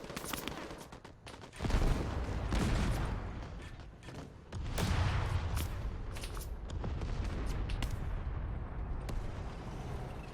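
Artillery barrages and RPG fire in a World War II-style war video game, with repeated heavy booms and crackling volleys layered into a dense, rumbling din of explosions that keeps going.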